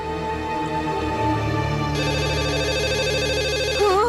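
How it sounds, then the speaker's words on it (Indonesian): A telephone rings in a home while a football match plays on television, a steady electronic ringing tone running throughout with a warbling shift near the end. "Kalau sudah nonton bola sampai nggak dengar suara telepon."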